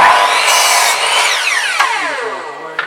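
Loud whining of a powerful, thick-bladed power saw cutting wood, the tone falling as it loads up in the cut, with a couple of short knocks near the end and no voices.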